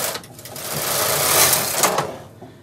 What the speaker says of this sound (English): I am going to knit across.